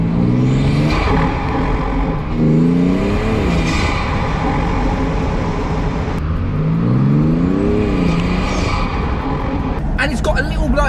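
A BMW M240i engine with a carbon induction kit revs and builds boost in rising whines, with a sharp hiss and flutter of a blow-off valve near the end, loud and close, under talk.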